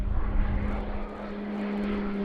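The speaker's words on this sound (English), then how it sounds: "the most potent fixed-wing aircraft in the Slovenian Air Force's relatively small inventory" A Slovenian Air Force PC-9M Hudournik propeller aircraft performs a flying display, its engine giving a sustained droning whine with a steady pitched tone, strong and fairly close.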